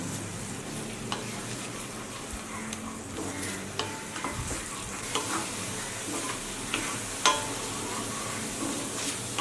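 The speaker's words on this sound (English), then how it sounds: "I am just breaking 2 eggs into the mix. Now quickly give this a mix." Eggs frying in a hot pan while being stirred, a steady close sizzle with scattered scraping and clinking clicks of the utensil throughout.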